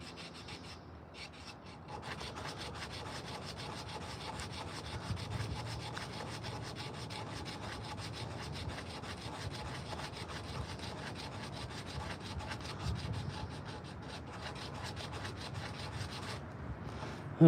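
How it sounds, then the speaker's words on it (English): Close, continuous sanding of a carved wooden spoon, a rhythmic scratchy back-and-forth stroke that keeps going steadily with slight swells in intensity. "We're sanding this guy right here a little bit."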